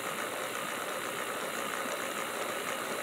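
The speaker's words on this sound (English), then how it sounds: "For what it is, it's a nice quiet motor." Motor of a Mantua 0-6-0 Little Six model locomotive running steadily, a continuous even whir with a faint high whine, close and unbroken throughout.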